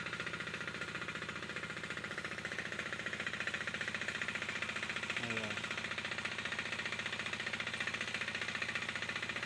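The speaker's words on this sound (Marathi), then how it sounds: "भात लावणी चालू आहे इकडं बघा ट्रॅक्टर हरत आहेत" A tractor engine drones and knocks continuously in a rice paddy during transplanting, a steady mid-level rumble with a faint chattering edge, heard at moderate distance.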